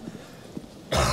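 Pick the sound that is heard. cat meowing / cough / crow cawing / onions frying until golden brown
cough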